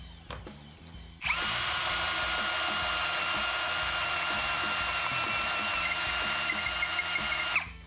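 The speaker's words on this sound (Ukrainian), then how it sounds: "Почнемо з пір'євого сверла 25 мм." Procraft PA21Li cordless drill with a 25 mm spade bit: a few faint knocks, then the motor whines up sharply into a loud, steady high-pitched drone for about six seconds before cutting off.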